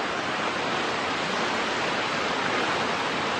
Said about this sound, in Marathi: अति मुसळधार पाऊस पडतो.